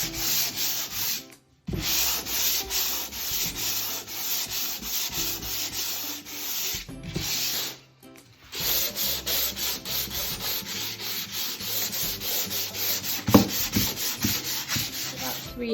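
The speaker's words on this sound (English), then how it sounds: "So we're going to, with the electric sander, sorry. So we're going to use this now" An electric sander grinds steadily across a bamboo worktop, a loud rasping hiss broken by two brief pauses before the sanding resumes.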